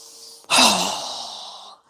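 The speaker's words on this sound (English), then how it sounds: "through our mouth with a strong exhale as we quickly lower our arms and hands down" A single strong, forceful exhale through the mouth during a yoga breathing exercise, a loud airy rush that tapers off over about a second.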